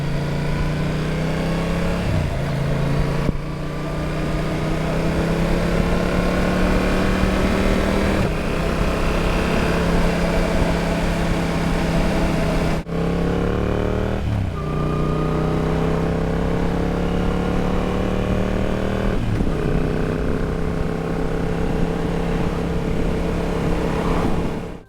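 A motorcycle engine hums steadily as it rides, picked up by an Insta360 GO Ultra camera, with repeated rising pitch sweeps as the rider accelerates through the gears and brief dips at each shift, loud and close with no talking.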